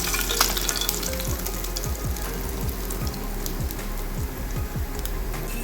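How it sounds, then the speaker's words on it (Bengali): Koi fish pieces fry in hot oil for a Bengali tel koi dish, giving a dense, steady crackling sizzle with sharp popping spatters throughout, close up and with no voices. "বাকি যে 3 পিস মাছ আছে সেগুলোকে আমরা ভেজে তুলে নেব"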